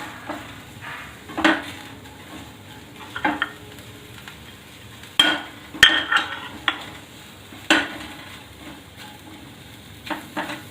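Green chilli pickle mixture being stirred in a hot pan, UP-style hari mirch achaar, with a spoon scraping and clinking against the pan in repeated strokes over a soft, steady sizzle of frying.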